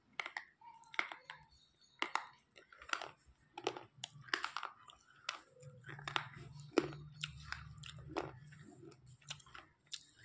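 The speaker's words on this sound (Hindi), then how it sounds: "तो अब मैं करूँगी इसका क्रंची।" Crunchy chewing of washed, soaked food heard close up in repeated crisp bites and crackles with short pauses between them, fairly quiet with no speech.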